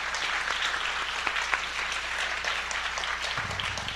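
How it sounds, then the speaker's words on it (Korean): Church congregation applauding in thanks during a healing service, a steady dense clapping wash at moderate level throughout, with a faint tonal hum near the end. "우리 정말 하나님께 먼저 감사와 영광의 박수를 크게 올려드립시다"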